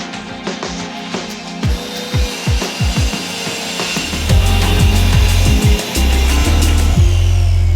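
Hand saw cutting plywood for under-stairs storage: a quick series of rasping back-and-forth strokes, close and loud, followed by a heavier, sustained grinding cut through the wood.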